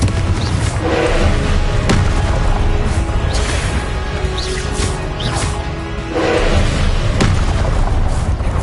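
Repeated booming spell blasts from Hogwarts Legacy gameplay, a series of loud impacts and crashes over dense, continuous combat noise with no pauses.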